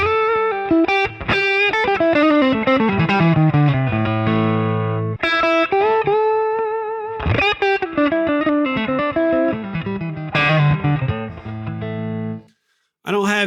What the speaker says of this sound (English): I'm using a 1966 Vibrolux. It's cranked to about 7, using an IR through the computer to get the sound.